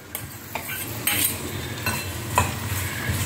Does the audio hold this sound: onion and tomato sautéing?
yes